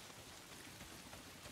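Steady rain in the video game Days Gone pours down in a dense, even hiss with no pauses, faint and continuous throughout.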